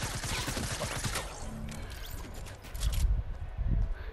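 Rapid bursts of gunfire in a shooter video game, a clattering volley at the start followed by scattered heavier thuds and shots, loud and close.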